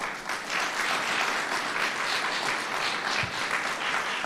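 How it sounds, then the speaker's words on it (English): Sustained applause fills a room at a public announcement event for a veterans memorial youth facility, many people clapping in a steady, dense wash at moderate volume with no talking over it. "you guys deserve a big round of applause"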